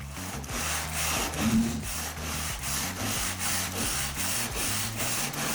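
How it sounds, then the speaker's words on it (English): Steady abrasive rubbing of a 120-grit disc sanding putty, close and continuous, with a regular back-and-forth rhythm of strokes over a low mechanical hum. "I will start with the 120 sheet to quickly remove excess putty"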